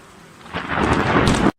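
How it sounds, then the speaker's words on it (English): A thunderstorm over Finland as lightning strikes a plane in flight: a loud rumbling roar of thunder with rain noise swells over about a second, then cuts off abruptly. "In 2020, this plane was struck by lightning when flying over Finland."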